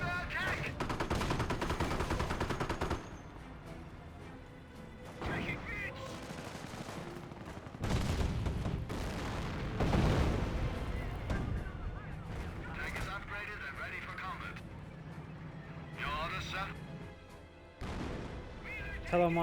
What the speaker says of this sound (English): Still firing away. Mortar half track hitting the 17-pounder.